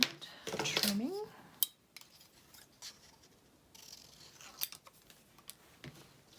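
Paper trimmed with scissors at a crafting table: a short burst of snipping and sliding blade noise near the start, then sparse faint clicks and rustles of handling.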